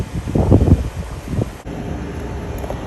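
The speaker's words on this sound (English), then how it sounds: "It's windy out" Wind buffets the microphone in low, rumbling gusts beside a RAM ProMaster camper van, louder at first, then settling into a steady roar.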